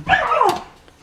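A dog barks once, close and loud, a short yelp-like bark that fades quickly into quiet.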